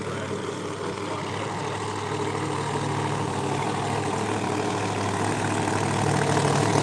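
A turbocharged Ford Mustang Pro Extreme drag race car engine idles at a drag strip, a steady loud low rumble with broad noisy roar, continuous and slightly swelling toward the end.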